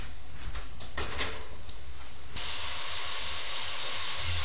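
Raw meat hits a hot pan beside already cooked meat, and a few light clatters give way to a loud, continuous sizzling hiss that fills the second half.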